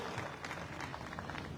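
Indoor audience applause, a dense, steady wash of many hands clapping at moderate volume for a brief moment.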